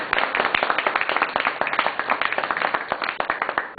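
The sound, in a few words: audience applause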